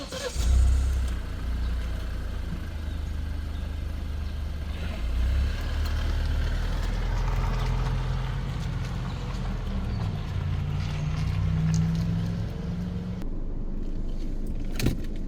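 An Alfa Romeo Stelvio SUV on a test drive, with a steady low engine and road drone from inside the cabin that holds at an even level throughout.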